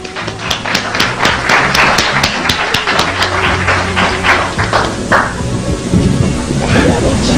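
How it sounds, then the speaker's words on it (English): Loud, dense clapping from a crowd fills the whole stretch, steady and sustained with a few sharper hand claps standing out near the start. "Let's bring her on with a round of applause."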